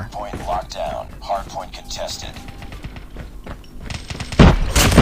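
Gunshots from a DL Q33 sniper rifle in Call of Duty Mobile, with sharp reports between stretches of talking and a louder blast near the end.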